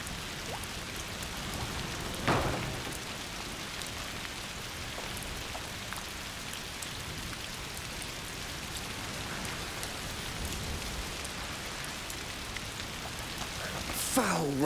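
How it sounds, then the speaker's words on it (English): Steady rain falls in A Plague Tale: Requiem, a broadband hiss holding evenly throughout, with a brief louder splash or rustle near the start and another at the very end. "Foul rain."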